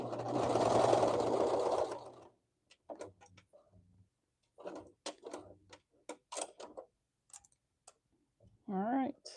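A sewing machine runs steadily for about two seconds while stitching the hem of a shirt, followed by quieter ticks and handling clicks.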